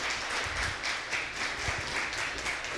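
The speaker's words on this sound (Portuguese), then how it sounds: "Vamos dar uma salva de palmas para elas?" Quiet, steady applause from an indoor audience for the speakers, a soft continuous wash of many hands clapping at a distance with no clear voices over it.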